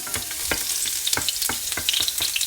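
Garlic frying in a pan for squid adobo, a loud close sizzle punctuated by regular scraping strokes of a stirring utensil, with no voices.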